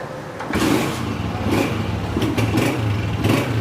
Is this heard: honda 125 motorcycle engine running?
yes